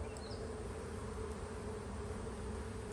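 Honeybees buzz steadily and densely at a backyard beehive, a close, continuous drone with no pauses and no voices.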